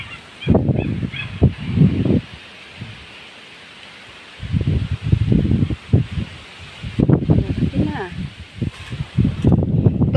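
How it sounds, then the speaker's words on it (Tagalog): Wind blows across a farm near a thick, healthy tree, heard as a steady breathy rush with gusty buffeting on the microphone while a person talks on and off. "Kaya lang humahangin na naman."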